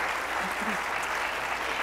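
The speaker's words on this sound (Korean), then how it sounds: "큰 박수로 환영해 주시기 바랍니다" Dense, steady applause from a conference audience welcoming a speaker at a summit discussion, a continuous even wash of many hands clapping with faint voices beneath.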